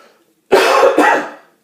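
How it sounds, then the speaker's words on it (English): A single harsh, close cough split into two quick bursts, like a rough throat clearing, set against near silence. "Sorry, I can't seem to clear my throat today"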